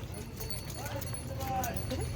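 A large herd of cows passing close by, their hooves clip-clopping steadily over a constant low rumble, while people talk and call out excitedly throughout.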